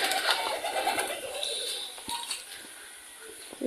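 Pigeons cooing softly among other bird calls in a village yard with ducks and chickens, low murmuring coos over a busy background of chirps.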